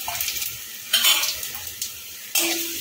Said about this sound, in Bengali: আলুটা একটু লাল করে ভেজে নেব।